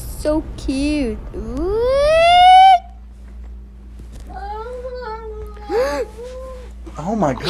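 A cat gives a string of odd, drawn-out yowls and rising, wavering meows, one long swelling cry near the start and shorter warbling calls later, close and loud with a steady low hum underneath.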